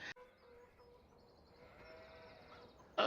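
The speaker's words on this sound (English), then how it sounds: "Oh, it is so good to have sheep back on the farm." Sheep bleat softly in a farming video game, a faint wavering bleat in the middle with quiet ambient farm hum and brief louder clicks at the start and end.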